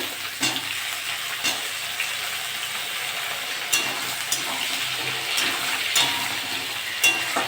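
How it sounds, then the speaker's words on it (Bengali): Pumpkin pieces and taro corms fry together in a pan, with a continuous oily sizzle broken by repeated spatula stirs and clinks, some louder than others. "এবার কুমড়োটা দিয়ে দেবো"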